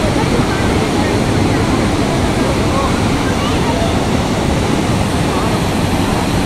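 Waterfall on a trip from Kolkata to Arunachal, a loud, constant close roar of rushing water and spray that fills the whole time, with wind buffeting the microphone.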